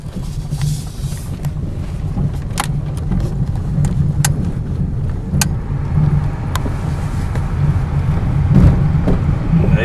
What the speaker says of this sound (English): here we go back on the noisy old gravel road now